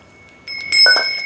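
A small metal bell clinks as a parcel is unpacked, a bright ringing tone starting abruptly, then a second touch adding a brief jangle before the ring lingers faintly.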